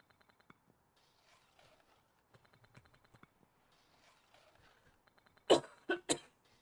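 Several sharp coughs near the end, close and fairly loud, from a person with allergies, following a stretch of quiet clicks and light keyboard-like tapping.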